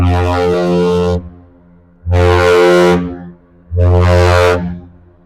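Deep, loud horn of the ship John G. Munson departing Duluth, sounding in three long, rich blasts separated by short pauses, with no talking.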